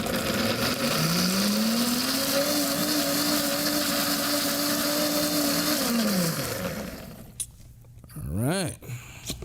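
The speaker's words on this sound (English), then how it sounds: "And then you want to blend it till it's nice and pureed." A blender whirs steadily as it purees a hot red pepper mixture, its motor pitch climbing and then holding loud for about six seconds before it winds down. Clatter and handling noises follow.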